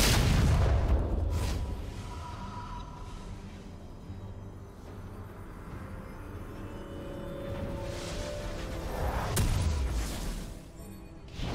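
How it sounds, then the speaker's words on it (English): A turret being destroyed in League of Legends, a deep booming blast at the start that rumbles away, with a second sharp crack and rumble near the end. "Blue team's turret has been destroyed."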